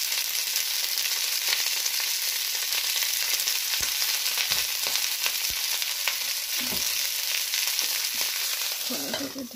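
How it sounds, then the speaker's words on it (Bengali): Food fries lightly in a frying pan with a steady, dense sizzle and occasional soft stirring knocks, ending in a brief murmur of voice. "এইটার মধ্যে দিয়ে হালকা ভেজে সিদ্ধ করে নেব ফ্রাইপ্যানে"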